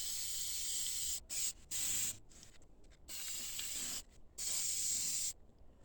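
Spray paint hissing onto a Dodge car engine, the motor being painted black and Dodge blue: a close, steady aerosol hiss in several long bursts separated by brief pauses, with no voices.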